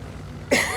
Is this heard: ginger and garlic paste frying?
no